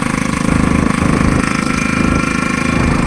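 A Yamaha RX 100 motorcycle engine runs loud and close with a steady, rapid two-stroke throb throughout, no talking.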